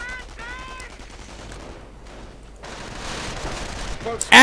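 Rapid rifle and machine-gun fire crackles through a video game battle. The shots come in a busy stream under a commentator's voice and grow louder toward the end.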